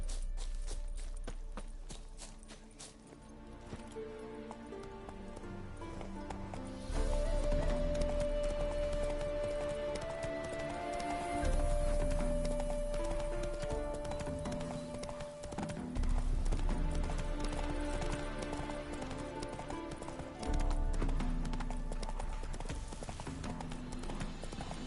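Roach, a horse in the Witcher 3 video game, gallops with steady clip-clopping hooves over a continuous music score, with occasional brief voices.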